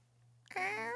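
A person imitates a cat's meow, one short rising and falling vocal meow after a brief quiet moment, close and clear.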